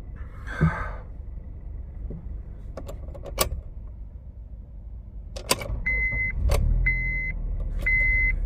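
An abandoned car's engine with 248,000 miles idles with a low, steady rumble, punctuated by mechanical clicks and a repeating electronic chime. The rumble swells slightly toward the end. No one speaks.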